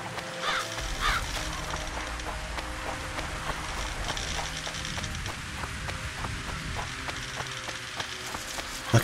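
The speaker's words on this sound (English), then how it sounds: "I can hear crows." Crows caw in the video game The Witcher 2: Assassins of Kings, a few harsh calls near the start over a steady ambient bed with faint creaking, mechanical ticks throughout.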